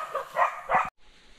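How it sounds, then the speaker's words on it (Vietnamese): A dog on a nature foraging trip gives two or three short barks or yips close by, then falls quiet. "À, chó đang đợi chuột."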